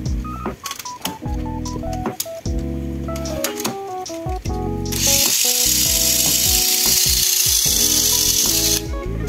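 A small Jiepin replica mini 4WD motor whirs in bursts, with a brighter, louder continuous run over the second half, punctuated by short clicks and starts, no talking.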